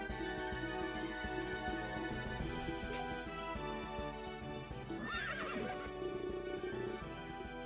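A horse in the video game Berwick Saga neighs in a shrill rising whinny over steady game music and hoofbeats, at moderate volume and alone with no voices.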